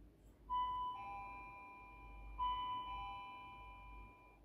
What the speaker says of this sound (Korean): 바로 초인종 소리입니다.